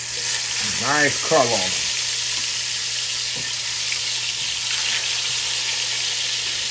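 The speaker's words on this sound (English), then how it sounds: "we're going to get these pork chops nice, golden brown, seared off" Pork chops sear in a hot pan with a loud, continuous sizzle and crackle, close up; someone speaks briefly early on over the frying.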